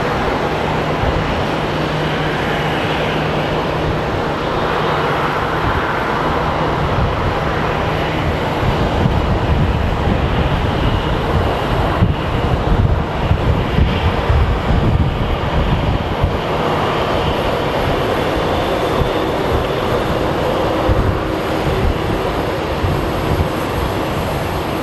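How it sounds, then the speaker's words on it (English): A Southwest jet comes in to land at Phoenix Sky Harbor airport, a loud, sustained engine roar and rumbling whoosh that swells in the middle and holds close and steady throughout. "there's a Southwest plane that is about to land"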